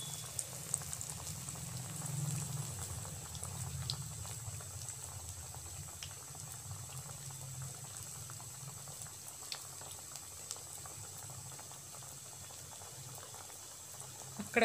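Soft, continuous sizzle and bubbling of kabuli chana vada deep frying in hot oil, heard close and faint, with occasional small pops.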